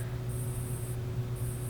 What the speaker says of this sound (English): I have a little bit extra paint in my gun here, so I'm going to go ahead and spray it on here